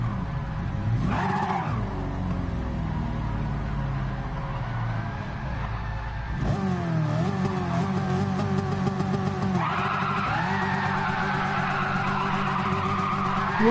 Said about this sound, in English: That's a Pantera that just drove past.